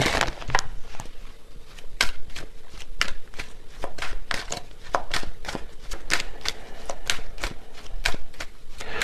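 Tarot cards are shuffled close up in a quick, steady run of crisp riffling snaps and slaps repeating through the whole stretch, with no voice over them.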